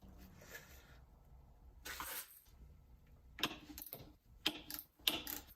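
A socket tool turns on a Fox 36 Factory FIT4 fork on a workbench, giving faint, close mechanical clicks and short ratcheting bursts separated by quiet gaps.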